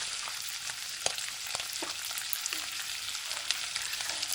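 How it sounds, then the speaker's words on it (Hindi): A dough bowl frying in hot oil around a ladle, giving a dense, continuous close sizzle with occasional sharper pops and faint metal taps, no voices. "फिर इसके अंदर भी ऑयल डाल दे कि अंदर से भी उसको हीट मिले, बाहर से भी मिले"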